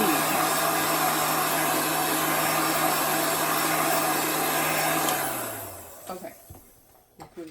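A blower pushes unheated air onto gingerbread as a steady, loud whoosh that holds for about five seconds, then winds down and cuts off, leaving a few faint knocks and handling sounds.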